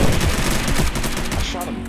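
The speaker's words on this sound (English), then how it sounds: "I shot him." Rapid automatic gunfire from the video game Unturned rattles in a dense, steady stream of loud shots, close and unbroken for the whole moment.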